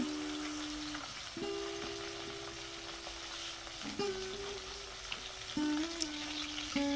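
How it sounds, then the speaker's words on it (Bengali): Salted, turmeric-coated bata fish, 600 grams, hit hot oil in a home kitchen with a soft, continuous frying hiss, while a sustained steady tone hums faintly beneath it. "তেল গরম হয়ে গেছে, দিয়ে দেব নুন হলুদ দিয়ে মেখে রাখা মাছগুলো।"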